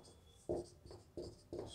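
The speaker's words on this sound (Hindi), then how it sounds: "तो लिखेंगे" A teacher writes notes for a science lesson on the cell, producing four quick, scratchy strokes in a steady rhythm, close and fairly clear against a quiet room with no talking.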